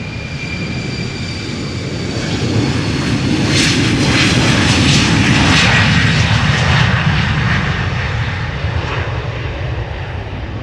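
KLM Embraer 190 jet departing Amsterdam Schiphol on a flight to Bristol, a loud sustained engine roar that swells at the middle and eases slightly toward the end, heard alone without talk.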